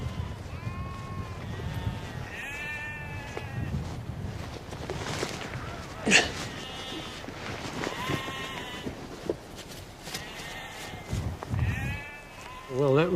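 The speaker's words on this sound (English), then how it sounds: "A sheep on its back." Sheep bleat repeatedly on a windy hill farm, a heavily pregnant ewe among them, with several clear calls rising over gusting wind and people talking nearby.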